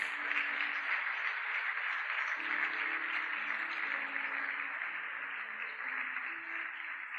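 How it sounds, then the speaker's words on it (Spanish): A church congregation applauds together, a steady, even wash of many hands clapping at a distance, sustained throughout without pauses, with a faint low hum of tones beneath it. "Dale un fuerte aplauso a Dios."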